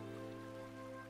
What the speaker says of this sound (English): it's raining, we should get out of here